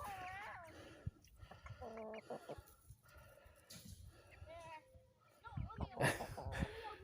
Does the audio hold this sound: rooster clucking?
yes